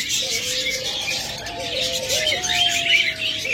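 Caged pet budgerigars or cockatiels chirp and twitter continuously at close range, with a thin whistled note running through the bright chatter.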